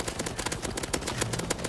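Rapid, sustained gunfire in a CS:GO zombie escape boss fight, many overlapping automatic weapons firing in a dense, steady clatter at close range with no voices.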